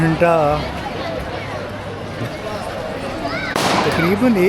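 Firecrackers crackle and pop in a noisy outdoor crowd at Las Fallas in Valencia, Spain, with people shouting and talking over the steady bursts.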